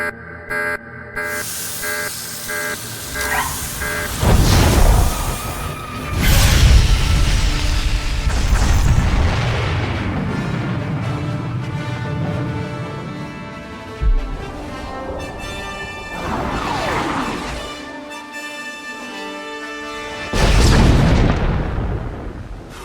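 A weapon is launched and explodes in Star Wars: The Old Republic: loud heavy booms and a deep rumbling blast with a long roaring tail, a second surge of rumble near the end, under a musical score.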